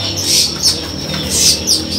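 Bright chirps of a Javan bushlark come in two short bursts over low background rumble at a bird market, a lark-like song phrase repeated.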